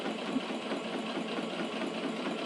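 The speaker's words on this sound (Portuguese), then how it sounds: "Dou retrocesso aqui, corto a minha linha." A sewing machine runs steadily while stitching patchwork for a fabric pouch that turns into a small basket, its motor whirring in a continuous close hum with no talk over it.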